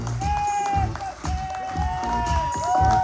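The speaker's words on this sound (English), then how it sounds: "Give a big round of applause for Justin Tinzone, ladies and gentlemen." Audience at a stand-up comedy show at Brother John's claps and cheers for a comedian taking the stage, steady crowd noise with shouts and music playing underneath, loud throughout.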